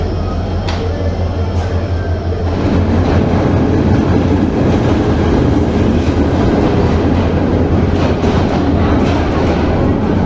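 The Mohua Express pulls into Airport station, a loud, close rail roar with steady clickety-clack building after a quieter start and continuing unbroken, with faint voices in the background.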